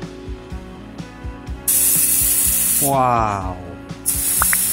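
A handheld plant or bird sprayer is pumped with quick ratcheting strokes, then lets out a strong, loud hiss of spray that stops and starts again. A voice exclaims briefly.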